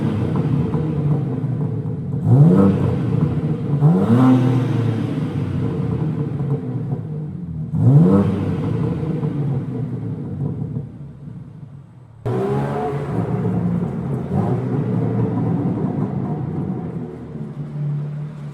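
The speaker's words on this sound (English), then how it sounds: "get some motherfucking revs for you guys" BMW M4 engine revving at night, several sharp throttle blips that rise and fall in pitch over a steady idling rumble, loud and close, with a final rev near the end and no talk.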